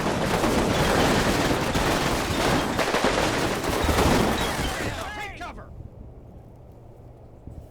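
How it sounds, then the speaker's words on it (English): Sustained machine gun fire and battle noise from the World War II game Combat Mission: Final Blitzkrieg, loud, dense and continuous for about five seconds before cutting off abruptly to quiet. "There is a machine gun right there."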